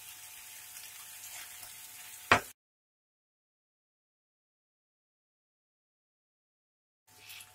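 An empanada meat filling with fried tomato cooking on the heat, a soft, steady sizzle with a sharp clink at about two seconds. It then drops to silence and the sizzle returns briefly at the very end.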